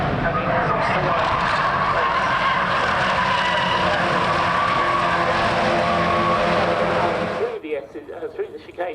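TCR UK touring cars race at Donington Park, their engines roaring loudly and continuously with a commentator talking over them, before the noise cuts away abruptly near the end.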